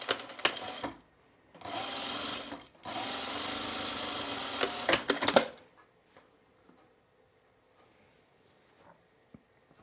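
A sewing machine stitches garment sleeves in several runs: a short burst, then two longer steady passes of whirring stitching, ending around five seconds and leaving near silence with faint handling sounds.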